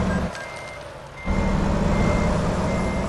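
Reversing beeps from a truck in American Truck Simulator, a steady high tone repeating over a continuous engine drone that grows louder partway through, with no talk.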